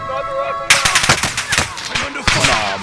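Rapid bursts of automatic gunfire in a first-person video game shooter break in abruptly after a quiet musical stretch and continue loud and close in dense volleys, with a second burst near the end.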